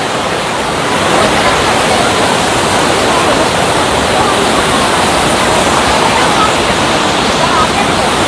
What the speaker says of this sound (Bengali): এই ওয়াটারফলসটা কিন্তু রিংলি ওয়াটারফলসের থেকে অনেকটা বড় এবং জলের স্রোতও খুব বেশি।